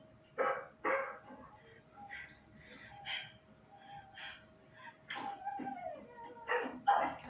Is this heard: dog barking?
yes